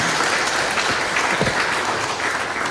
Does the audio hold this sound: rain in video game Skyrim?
no